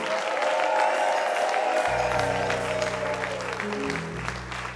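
Church congregation clapping together, a steady dense applause that fills the room, with a sustained musical tone or organ-like drone entering partway through and continuing under the clapping.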